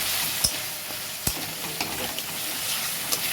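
Amla curry masala cooking in oil in a pan, a constant bright sizzle with occasional clacks of a spatula stirring against the pan.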